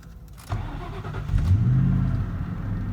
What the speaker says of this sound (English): So now I'm gonna hit record. I'm gonna start the car.